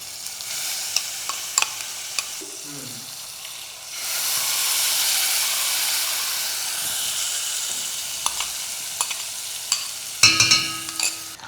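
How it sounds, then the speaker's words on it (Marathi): Green masala paste with mustard seeds, cumin, asafoetida, curry leaves and dry red chillies sautéing in oil, with scattered ticks and scrapes, then a loud steady hissing sizzle swelling for several seconds before a few clattering knocks near the end. "आता वाटण दोन ते तीन मिनटं परतून घ्या"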